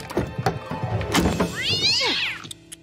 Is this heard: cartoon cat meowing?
yes